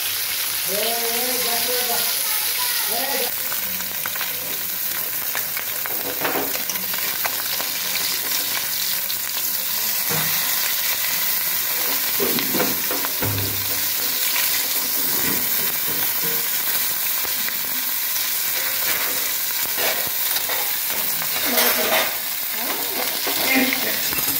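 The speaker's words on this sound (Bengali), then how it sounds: "এক হাতে মোবাইল নিয়েছি আর এক হাতে মাছ ভাজা দিচ্ছি।" River morola fish frying in hot oil with green chillies in a wok, a continuous close sizzle with occasional stirring clatter and scraping, steady throughout.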